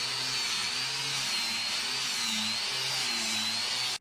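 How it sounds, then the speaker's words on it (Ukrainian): A continuous high-pitched grinding whine from an angle grinder cutting wood runs for about four seconds with a steady low hum beneath it, then cuts off abruptly. "Я це зробив болгаркою та шлів кругами."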